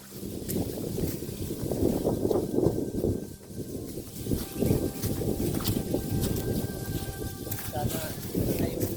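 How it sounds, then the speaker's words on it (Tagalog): Strong wind buffets the microphone in steady low rumbling gusts, with a voice speaking over it. "Ang lakas ng hangin."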